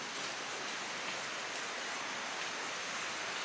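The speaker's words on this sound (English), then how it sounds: "Here comes some rain." Rain arriving in a jungle near a survival shelter, a steady soft hiss of falling drops with no other sound and no voices.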